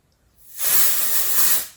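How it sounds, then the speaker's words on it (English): A can of hair spray is used during a date-night makeup and hair routine: one continuous aerosol hiss that lasts just over a second, close and fairly loud, with no talking. "So I'm just going to try spraying this"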